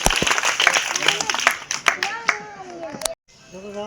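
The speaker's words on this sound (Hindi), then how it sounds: "तालियां।" Audience applause and clapping during a Hindi Day (Hindi Pakhwada) gathering in Auraiya, with dense clapping over the first three seconds, a sudden cutoff, and voices speaking alongside.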